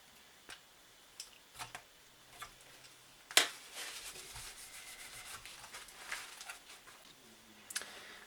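Small screws are driven back into a GTX 1070 Ti graphics card, faint close ticking and rubbing clicks from a screwdriver at a slow, uneven pace, with one sharper metallic knock partway through and no talk.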